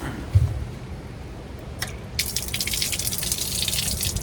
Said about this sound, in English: you could get some spring water that Mary used on your hands